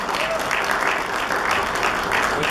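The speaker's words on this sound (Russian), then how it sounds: "аплодисменты даже в три раза больше" An audience at a concert event in Domodedovo claps for a singer in steady, moderately loud applause from a sizable crowd, with a few faint voices murmuring underneath.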